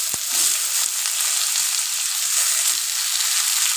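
Chopped bottle gourd goes into a hot cumin and radhuni tempering, and a bright, continuous sizzle fills the pan at close range with a few soft knocks. Nobody talks.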